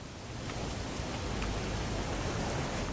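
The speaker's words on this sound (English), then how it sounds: "It's gonna rain the whole weekend, isn't it?" Rain pours in What Remains of Edith Finch, a dense, loud, even wash of falling water with no break or variation across the whole stretch.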